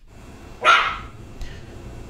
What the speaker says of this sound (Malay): ni kenapa ini anjing bising?